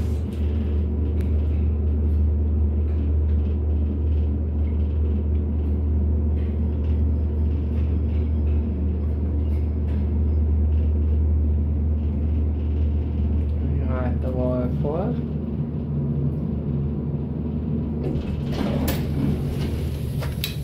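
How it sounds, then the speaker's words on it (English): Machine room of an original vintage Otis elevator running: a steady, loud low hum and rumble throughout, with a few brief clanks and whirs near the end. "that's the sound of the machine of the original elevator"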